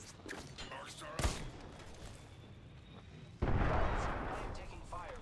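Gunfire in the battle royale shooter Apex Legends: a sharp shot near 1.2 s, then a louder sustained burst of fire from about 3.4 s that slowly fades, over a busy game soundscape with some voice chatter.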